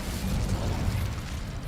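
The Incendio fire spell in Hogwarts Legacy lets out a brief, close, rumbling whoosh of flame that holds steady for under two seconds.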